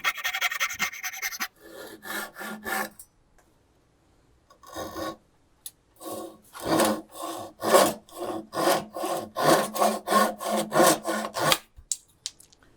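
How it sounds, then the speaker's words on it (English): A handsaw cuts through wood, trimming the excess off a tapered sliding dovetail joint, heard as a run of rhythmic rasping back-and-forth strokes after a few short starts and pauses, close and clear. "now I can saw off the extra using my handsaw"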